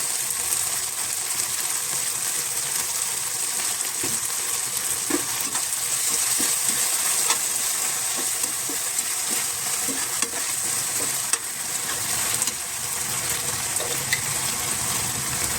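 Chilli sauce poured into gobi manchurian frying in a pan, a steady sizzle with occasional soft stirring clinks and taps, close and continuous throughout.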